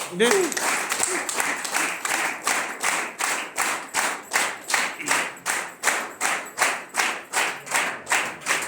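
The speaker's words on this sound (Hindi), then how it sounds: "मैं चाहूंगा सबसे पहले इन तीनों के लिए एक जोरदार तालियां।" Audience applause at a gathering turns into rhythmic clapping in unison, a steady beat of loud, close claps about two per second. A brief voice is heard at the start.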